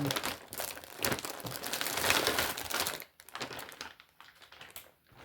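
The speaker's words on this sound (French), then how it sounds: "Eh bien, nous allons déballer ça ensemble." Plastic wrapping crinkles and rustles loudly for about three seconds as a package holding a custom canvas is unboxed, followed by quieter, scattered crackles and handling clicks.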